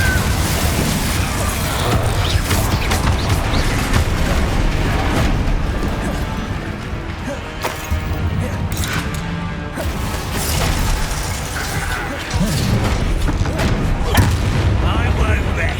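Bombarda explosion spells cast in Hogwarts Legacy during a battle against Ranrok, loud repeated booming blasts over a dense, continuous combat soundscape.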